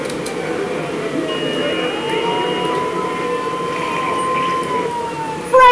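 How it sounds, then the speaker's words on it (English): A fire truck siren in Grand Theft Auto III wails continuously over a running engine, loud and close, with a brief burst of noise at the end. "How do you turn the damn siren?"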